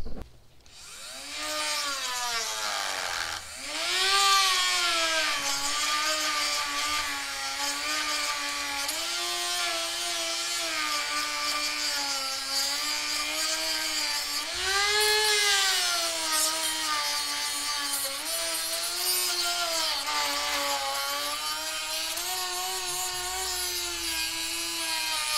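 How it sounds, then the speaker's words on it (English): A Dremel rotary tool fitted with a sanding disc grinds and cleans up an LS6 engine valley cover, whining steadily and loudly with pitch dips as it loads against the metal, running almost continuously without talk. "I'm gonna take just a sanding disc on my Dremel and kind of clean that up a little bit."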